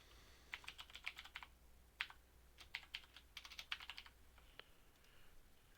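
Keys clatter on a computer keyboard as a name is typed into an Azure portal form, quick irregular bursts of clicks that pause briefly and resume, close and fairly quiet with no talking.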